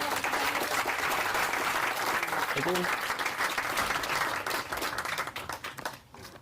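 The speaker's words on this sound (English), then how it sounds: "Thank you for some applause." An audience claps after a talk, with dense sustained applause that fades out toward the end as a speaker briefly speaks over it.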